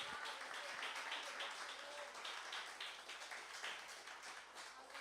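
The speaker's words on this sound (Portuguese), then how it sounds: "Vamos dar um aplauso ao Senhor Jesus." Church congregation applauding, a steady wash of many hands clapping at moderate volume, continuous across the whole stretch without talk.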